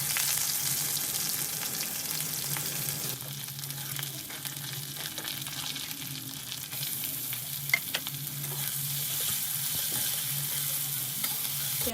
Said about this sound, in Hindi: प्याज अब भुना हो चुका है।